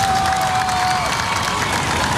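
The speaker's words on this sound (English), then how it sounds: "The crowd likes it." Spectators at the 2017 Oi Rio Pro surf contest in Rio cheer and clap in a loud, dense, continuous wash of crowd noise that holds steady for about two seconds.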